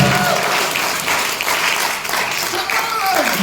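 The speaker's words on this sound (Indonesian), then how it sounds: "Tepuk tangan, jangan berhenti, tepuk tangan." A church congregation in Jayapura claps and applauds loudly and continuously, a thick wash of hands with voices shouting and talking over it.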